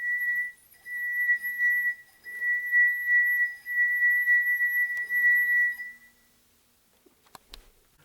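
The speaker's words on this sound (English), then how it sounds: "when I rubbed the rim of the glass with my finger, the friction between my finger and the glass caused the glass to vibrate" A finger rubbing the rim of a glass makes a sustained, clear singing tone that swells and fades in several long stretches, then stops, followed by a few faint clinks and ticks.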